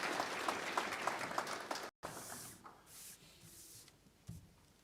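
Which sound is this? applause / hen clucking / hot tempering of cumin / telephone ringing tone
applause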